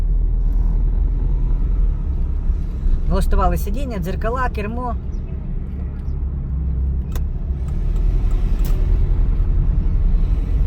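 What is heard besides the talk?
car engine idling during driving exam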